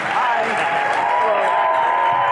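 A convention audience at a comic con panel applauds Billy West's entrance, a dense, steady wash of clapping with voices mixed in.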